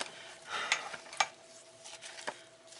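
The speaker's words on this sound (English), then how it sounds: "I'm going to get a spoon and stir this up" A spoon stirs beef stew with celery and onions inside an 8-quart Instant Pot, giving soft, quiet scraping and wet swishing with a few sharper clinks of metal against the pot, close and alone.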